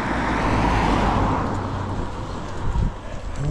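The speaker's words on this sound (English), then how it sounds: "Maybe after these cars go by," Cars pass by on a narrow road in Castlebridge, Ireland, their engine and tyre noise swelling loudly up close and then fading as they move away, with little talk.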